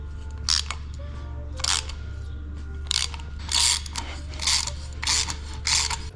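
Hand tapping of threads into freshly drilled holes on an Evo drag car build, with repeated bursts of metallic ratcheting and scraping, about six separate strokes spaced evenly, close and fairly loud over a low steady hum.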